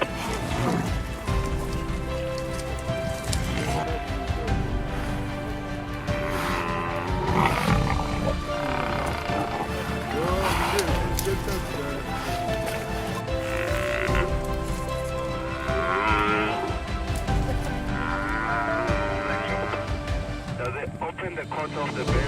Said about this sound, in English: The battle between the lion pride and the herd of buffalo was truly spectacular.